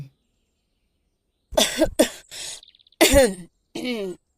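An old woman coughs, with a few harsh, close coughs and throat clearing in quick bursts after a moment of silence.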